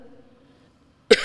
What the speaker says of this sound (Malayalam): എൻ്റെ ചുമ കൂടത്തില്ലയോടാ